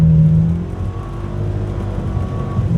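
A four-wheel drive vehicle churns and revs to climb out of a ditch, its loud engine drone rumbling up close, starting strong, dipping briefly, then building again with no voices.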